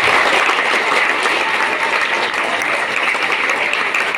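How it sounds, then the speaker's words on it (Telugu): An audience claps loudly and continuously at a high school science exhibition, a dense, even wash of applause from start to finish. "అందరూ ఒకసారి గట్టిగా చప్పట్లు కొట్టాలి"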